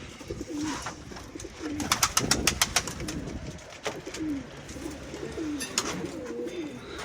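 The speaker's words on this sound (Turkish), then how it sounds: "Burada kuşlar hemen içeri girmek istiyor." Pigeons cooing nearby in repeated soft calls, with a burst of flapping wings and rustling in the middle and a strong, breezy wind in the background.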